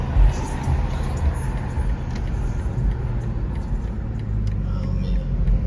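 A BMW M440i cruises through city streets at night, its low engine rumble and road noise steady and close from inside the cabin, with a faint swell partway through.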